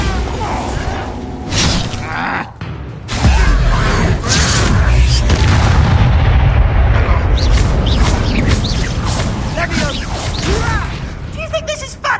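Confringo fire spell blasts in the video game Hogwarts Legacy, loud crashing explosions with shattering debris and whooshes over a heavy rumbling bed, with voices speaking amid the chaos.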